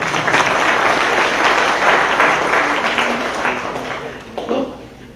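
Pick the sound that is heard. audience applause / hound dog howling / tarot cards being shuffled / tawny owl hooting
audience applause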